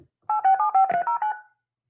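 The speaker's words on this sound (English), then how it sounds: "Starting up the phone lines." A phone line system starting up with a quick run of about seven clean telephone dialing tones, played clearly and alone in a short burst.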